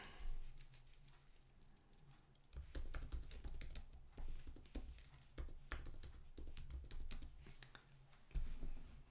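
Typing on a computer keyboard while entering text, heard as steady rapid key taps over a constant low background hum, close and moderately loud.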